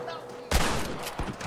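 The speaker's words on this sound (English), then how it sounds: "Pretty damn good shooting, John." Gunfire in the video game Red Dead Redemption: one sharp shot followed by a fainter second report, heard close in a brief burst.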